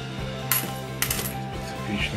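Ukrainian 5-kopiyka coins clink as they drop and scatter, with several bright metallic impacts and a run of small jingles over a couple of seconds, close and fairly loud, no voices.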